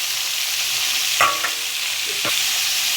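Radish (mooli) bhurji sizzling steadily in a pan, with a couple of brief scraping stirs over the constant frying hiss, close up.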